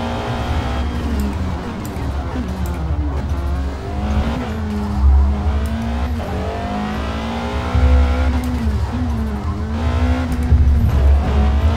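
Car engine in Forza Motorsport (2023) driven on a PXN V10 wheel, revving and accelerating hard with rising and falling pitch as gears change, loud and continuous throughout.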